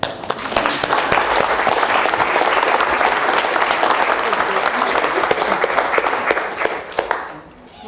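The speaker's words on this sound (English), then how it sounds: "So applause to Betty." Loud, close applause from an audience, many hands clapping briskly and evenly before tapering off near the end.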